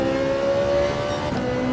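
A GT3 race car engine in Gran Turismo 7 screams at high revs, steady with a brief dip and shift in pitch, loud and continuous.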